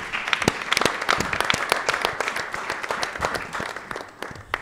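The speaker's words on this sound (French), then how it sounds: "Applaudissez pour lui, s'il vous plaît." Audience at the Miss RDCongo pageant show applauding: a lively crowd of clapping hands with distinct sharp claps standing out, steady for several seconds before gradually tapering off.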